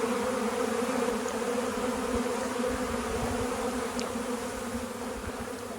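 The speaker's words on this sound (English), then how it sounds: "Looks like we've got a swarm in progress." Swarm of honeybees buzzing in a steady, dense drone that holds evenly throughout, fairly close, with no voices over it.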